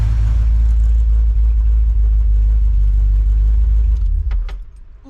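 A 350 V8 engine in a truck idles with a loud, steady low rumble, then shuts off near the end, the sound dropping away and dying out with a few faint clicks.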